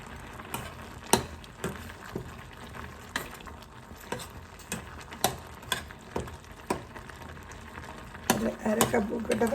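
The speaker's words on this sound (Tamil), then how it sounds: "இதுக்குள்ளே நாங்கள் இப்போ இந்த கருவேப்பிலையை சேர்த்துக்கொள்வோம்." Curry leaves added to a simmering green tomato curry and stirred, giving soft sizzling with a steady run of sharp spoon taps against the pot, fairly quiet and close.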